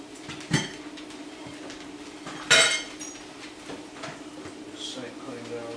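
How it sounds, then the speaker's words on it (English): Metal strainer and pots handled in a home kitchen during a Southern shrimp boil, giving a few sharp clinks and clanks against steady background noise. "I looked at that strainer I had. Got a little strainer over here."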